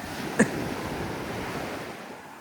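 Ocean surf at South Beach washes in a steady, soft broadband rush, with one short sharp tap early on.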